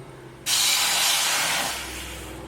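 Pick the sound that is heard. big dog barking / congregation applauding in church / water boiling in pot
water boiling in pot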